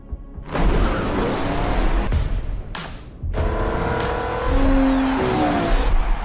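A race car tears around the 24 Hours of Le Mans in a film scene, its loud roaring engine filling the track in abrupt cuts between passes.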